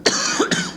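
Two harsh, loud coughs in quick succession from a person with a heavy cold, each a sharp, rough burst followed by a brief rasping tail.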